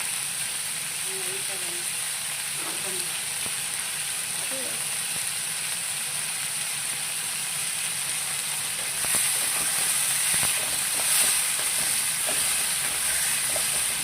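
Raw green tomatoes lightly frying in a pan for chutney give a continuous, even sizzle and hiss, swelling slightly louder in the latter half, with a voice speaking faintly underneath early on.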